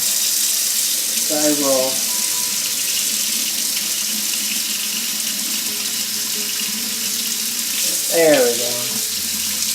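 Lukewarm tap water runs steadily into an indoor sink, filling it for watering succulents, a constant close hiss and splash with a short spoken remark partway through.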